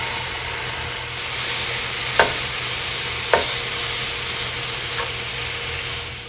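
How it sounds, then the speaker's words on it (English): Ground beef browning in an oven-safe skillet, a steady close sizzle broken by a couple of sharp spatula scrapes and a fainter one later, fading at the end. "So now I'm going to brown up my ground beef."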